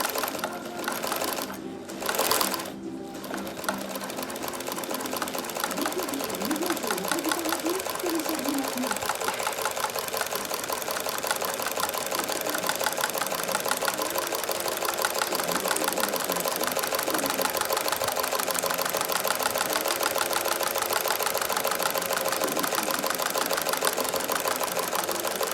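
A sewing machine fitted with a walking foot attachment stitches steadily in a rapid, even mechanical chatter; a few short clicks and a brief pause come first, then continuous running that stays close and constant.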